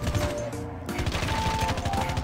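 Loud, rapid automatic gunfire fires at zombies in Call of Duty Mobile's zombies mode, a steady stream of sharp shots with a brief louder blast near the start.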